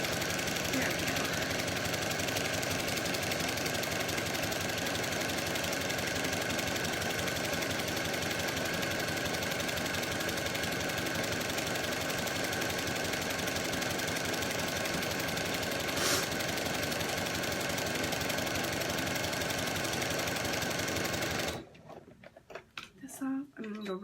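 Sewing machine running a straight stitch on a quillow, a steady continuous whirring hum held for about twenty seconds before stopping abruptly, followed by faint handling noises.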